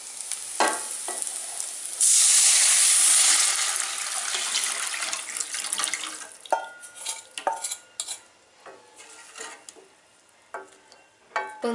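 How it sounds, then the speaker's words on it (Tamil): Tamarind water poured into a hot pan of tempered garlic, pepper and cumin for rasam gives a loud rushing sizzle for a few seconds, fading into softer bubbling with scattered clinks and scrapes of a spoon against the pan. "இப்போ வந்து நம்ம புளி தண்ணியை வந்து அதில் சேர்த்துக்கலாம்."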